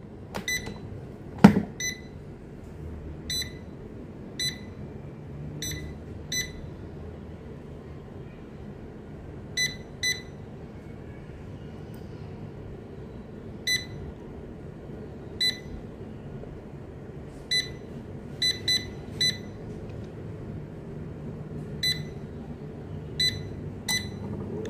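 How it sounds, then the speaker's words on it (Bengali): Air fryer cooking marinated chicken: a steady low fan hum runs throughout, with a louder click near the start and sparse short beeps scattered across the clip. "তো এখন দিয়ে দিলাম এয়ার ফ্রায়ারে"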